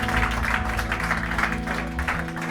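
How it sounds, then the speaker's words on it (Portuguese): Congregation clapping for Jesus at a Brazilian evangelical church service, a steady dense wash of applause lasting throughout over a low sustained organ or keyboard drone, with no voices rising above it. "dê Jesus uma salva de palmas nesta noite, maravilha"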